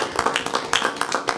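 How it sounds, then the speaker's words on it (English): Audience applause at a county school board meeting, a short burst of scattered hand claps rising and falling across the room at moderate volume. "That deserves another round of applause."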